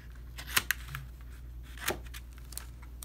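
Scissors trim a paper craft valentine in a few quick, quiet snips and soft paper rustles close by, with no talking.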